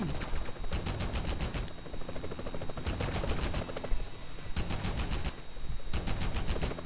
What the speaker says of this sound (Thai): โอ้ยไม่จะยิงอะไรกันนักหนาเนี่ย